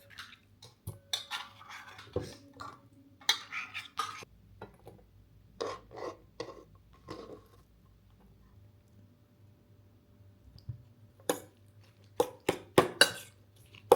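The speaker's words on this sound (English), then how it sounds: "So I'm just gonna do some canned tuna and mix it with some Greek yogurt, some spices, some red onion and stuff" Canned tuna being mixed with Greek yogurt, spices and red onion in a home kitchen, with intermittent scraping and clinking of a utensil against a bowl, short irregular strokes separated by quiet pauses.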